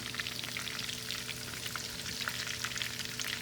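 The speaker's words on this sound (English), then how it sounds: "you're gonna melt your butter" Vegan butter melts and sizzles in a pan, a steady close crackle with dense popping held at an even level throughout, no voices over it.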